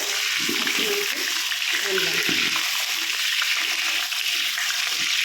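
Potatoes fry in hot oil for a mutton curry, giving a loud, steady close sizzle and crackle with some stirring, while a voice talks over it.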